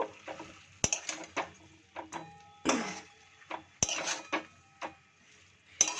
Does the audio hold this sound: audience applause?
no